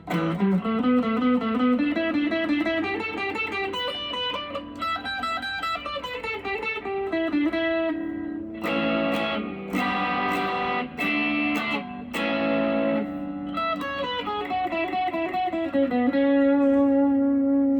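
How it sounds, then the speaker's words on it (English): Electric guitar played through a delay, reverb and preamp preset, with sustained notes, sliding chord lines and a burst of choppy strummed chords in the middle, echoing tails trailing off, heard alone and fairly quiet. "Preset is a Diamond Echo, so it's gonna be delay, reverb, and preamp."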